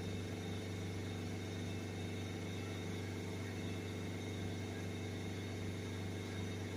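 Volvo C30 1.6 HDi diesel engine with a blocked particle filter idling steadily, a constant low hum with a droning tone and hiss, continuous and unchanging throughout.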